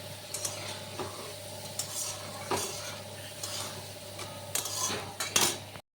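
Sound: stirring spice paste in a pan

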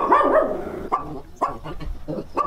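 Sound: dog barking

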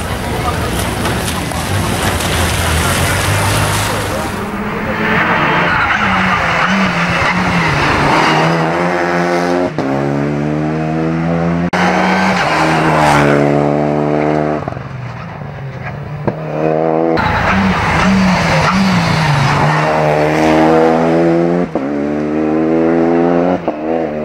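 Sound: Renault Clio Rally5 rally car starting a stage

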